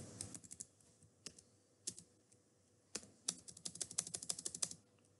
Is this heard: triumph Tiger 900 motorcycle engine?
no